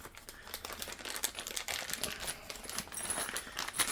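Plastic packaging of a shoe bench assembly kit is torn and crinkled by hand, producing irregular close-up crackles and rips of varying intensity with no talking.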